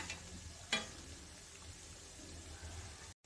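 A second batch of kaja sweet frying in a pan, a quiet, steady sizzle with one brief scrape or clink early on, ending in an abrupt cutoff.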